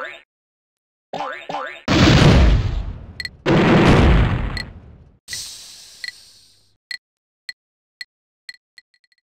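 Cartoonish weapon fire and explosions from the PC game Worms Armageddon: a short launch, then two long roaring blasts with rumbling debris, followed by a string of sharp pings and clicks fading out.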